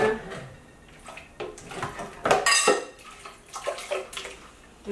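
Half a cup of water is poured into a pot of mole sauce, making splashing and trickling sounds with a few soft clinks of a pot or utensil, loud and close with uneven bursts.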